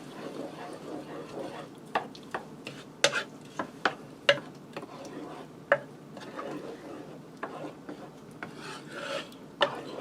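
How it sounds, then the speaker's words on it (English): A spoon stirring Italian seasoning into a homemade tomato sauce for rigatoni and meatballs, giving scattered scraping and tapping knocks against the pot, close and fairly quiet over a low background hum. "I'm going to stir that up."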